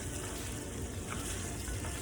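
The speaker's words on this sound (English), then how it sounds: "I just want to caramelize the pork belly" Pork belly frying and caramelizing in a pan for a Hmong pork and ginger stir fry, with a steady dense sizzle that holds close and even throughout, with no talking.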